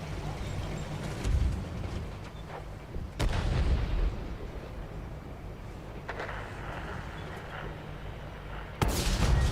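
Tank cannon shots in a tank combat video game, a few heavy booms standing out over a constant rumbling engine and battle background, with one loud blast near the end.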